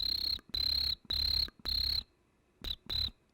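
A person mimics a little cricket: four steady shrill trills in a row, a brief pause, then two shorter chirps, fairly quiet and alone.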